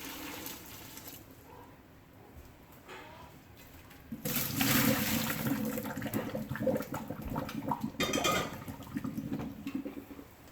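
Water poured over Norwex cloths in a container, starting as a quiet trickle and then rushing in louder and steadier as the pour picks up, with a brief surge near the end.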